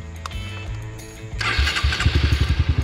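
A Honda CRF 150 dirt bike engine cranks briefly, then fires up and settles into a loud, close, rapidly pulsing idle.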